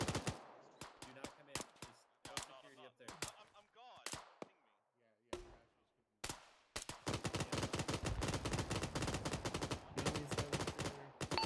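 Gunfire in the video game Arma 3 from a machine gun set up facing east; scattered sharp shots and bursts give way to sustained rapid automatic fire, with faint voices in between.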